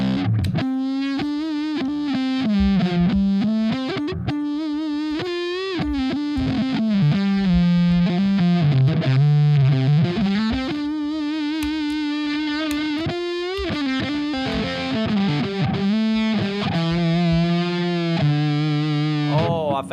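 An electric guitar played through a Harby distortion pedal with volume and distortion maxed sounds thick and saturated, a sustained run of loud overdriven notes and bends with no pauses.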